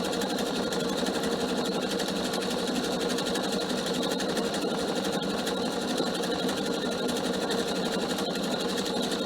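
PFAFF sewing machine stitching a decorative pattern on a cushion cover, a steady fast mechanical whirring and ticking that runs continuously and fairly close, with no talking.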